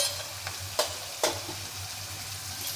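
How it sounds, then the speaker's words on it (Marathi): Onions fry in oil until browned for a mutton curry, giving a steady, moderate sizzle. A few sharp stirring scrapes cut through it, and no one speaks. "तर आपला कांदा जो आहे छान लाल येतपर्यंत, थोडा ब्राऊन येतपर्यंत आपल्याला होऊ द्यायचा आहे।"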